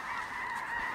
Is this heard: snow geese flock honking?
yes